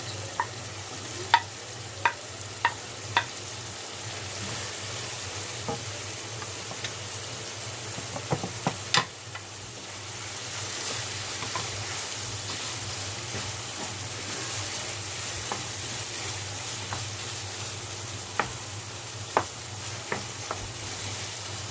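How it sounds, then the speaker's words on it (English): Chopped large onion sizzles in a hot pan for British chilli con carne, a steady frying hiss with scattered spoon clicks and stirring scrapes throughout, close and moderately loud. "So I'm going to now add large onion, which I have chopped."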